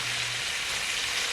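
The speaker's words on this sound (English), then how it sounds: "I will start to put in the green collards." Collard greens hit a hot pan with a steady, close hiss of frying oil that holds evenly through the moment, with no voices over it.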